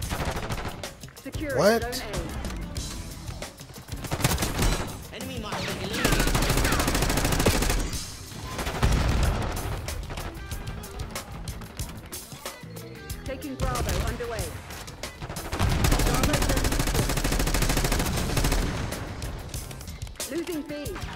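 Rapid automatic gunfire and bursts of shots in the video game Call of Duty Black Ops 6, loud and continuous, with players talking over the gameplay.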